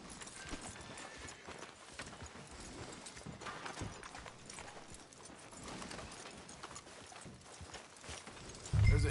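Horse hooves clip-clopping at a steady walking rhythm in Red Dead Redemption 2, moderately quiet and continuous throughout, with no talking.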